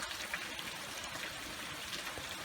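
Rainwater from building gutters pouring down through a pipe, a steady close hiss of flowing, trickling water with no break.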